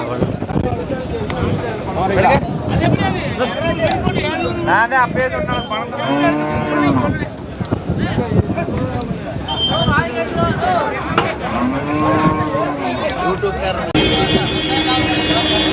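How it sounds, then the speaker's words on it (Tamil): Cattle mooing at the Kangeyam-breed cattle market in Kundadam, several loud calls near and far amid crowd chatter and people talking. "மாடுகள்லாம் ஏத்திறக்க ஆரம்பிச்சிட்டாங்க. இன்னும் உள்ளே வந்துட்டு இருக்குது."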